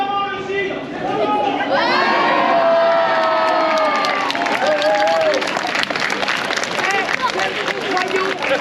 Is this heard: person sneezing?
no